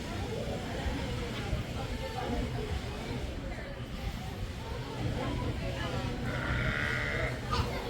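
Several goat bleats rise from a noisy outdoor crowd, mostly distant and muffled beneath constant talking, with a sharper call near the end.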